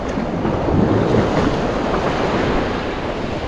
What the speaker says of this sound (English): The waves are a little tricky.